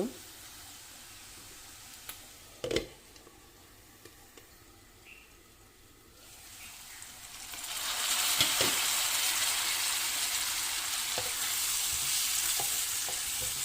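Dried fish fries in a pan, starting as a faint crackle with a few clanks and swelling into a loud, continuous sizzle that holds to the end.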